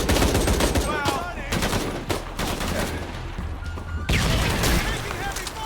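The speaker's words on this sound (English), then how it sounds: "Taking heavy fire!" Dense, sustained gunfire in Shadow of the Tomb Raider, with overlapping automatic bursts and sharp single shots, mixed with game effects and voices, and a fresh loud volley near the end.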